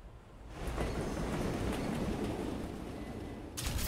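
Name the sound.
train driving in video game Wolfenstein: The New Order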